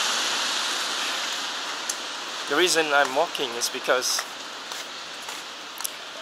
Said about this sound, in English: And it's a bit drizzling here.